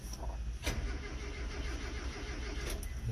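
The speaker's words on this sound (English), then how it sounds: "Oh, we got something. Sounds like it's flooded though." A flooded old Ford Courier engine turns over continuously for a few seconds, a steady churning crank with a couple of sharp clicks, close and fairly loud.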